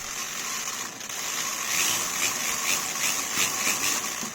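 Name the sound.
Scalextric slot car running on the track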